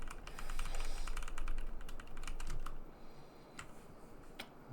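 Fast, continuous clicking of keys on a small computer keyboard, dense bursts of keystrokes that thin out into sparser, slower taps near the end.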